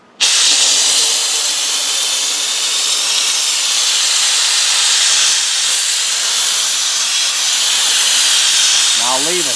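A Wagner Spraytech SteamMachine steam cleaner hisses steadily and loudly up close, a continuous broadband rush of steam played over a creased surface, running almost unbroken for the whole stretch.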